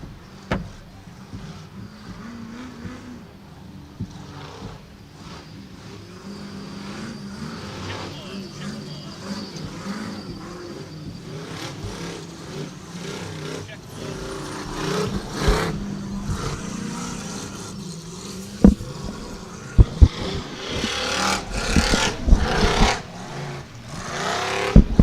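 EMC class off-road race cars driving at Badlands Off Road Park, a rumbling engine drone building into louder revs and bursts near the end, with commentators talking over it.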